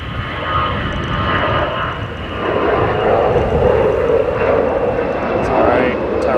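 An airliner passes at Manchester Airport, its engine roar swelling into a loud, sustained rumble partway through. Wind buffets across it.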